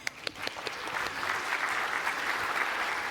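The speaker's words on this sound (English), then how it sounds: "A round of applause for John" Applause from a tech conference audience during an Azure Kubernetes Service DevOps session: a few sharp claps at first, then building into steady, moderately distant clapping that holds to the end.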